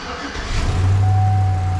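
A 2003 Sierra truck's engine catches inside an open garage and settles into a loud, steady idle hum close by, with a faint high whine running over it.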